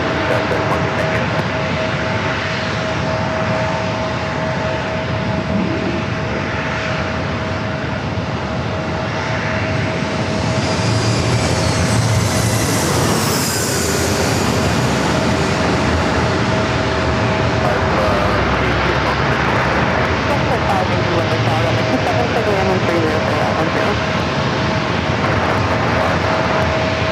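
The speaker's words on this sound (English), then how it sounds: "JetBlue A321 heading back over to 27." A JetBlue Airbus A321 jet lands at San Diego airport on runway 27. A steady engine roar fills the whole stretch and swells to a broad rushing peak midway as the plane passes close. A faint steady hum lies underneath.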